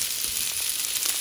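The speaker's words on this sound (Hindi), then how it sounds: "इसके अंदर फिर हम डालेंगे चिकन जो हमने फ्राई करके रखी थी" Sizzling hot pan as pre-fried chicken pieces go in for kung pao chicken, a brief bright hiss of frying with faint stirring clatter, close and alone.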